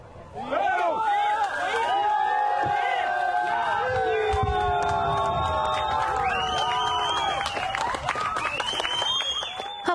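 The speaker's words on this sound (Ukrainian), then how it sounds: "Падіння стели спостерігачі зустріли оплесками." Onlookers react as a Soviet obelisk topples into a pool, a loud crowd of many overlapping voices shouting and cheering with scattered clapping mixed in, busy and close throughout.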